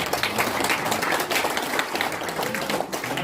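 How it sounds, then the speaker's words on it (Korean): An audience at a church leadership workshop's opening service claps in a short burst of applause, with scattered hands clapping fairly close and steady for a few seconds. "감사 박수 드리겠습니다"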